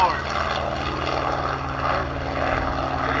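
A propeller aircraft engine roaring at the EAA AirVenture Oshkosh airshow, giving a steady, full drone for a few seconds with narration over it.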